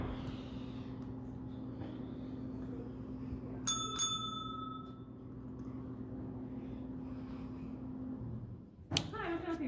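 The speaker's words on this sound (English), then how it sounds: "It says ring bell for assistance." Two quick metallic dings of a service bell on a town hall office counter, rung once and then again a moment later, clear and close over low room hum.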